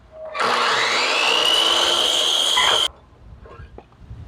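A power saw cuts burl wood into pen blanks, giving a loud, close, steady whine with a rising pitch for about two and a half seconds, then stopping abruptly into quiet workshop rustling.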